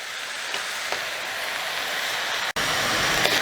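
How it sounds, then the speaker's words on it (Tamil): Continuous loud sizzling hiss of mutton sautéing in a pan for pepper mutton gravy, steady throughout with a brief dropout near the end. "இப்போ மட்டன் வதங்கிட்டு இருக்கு."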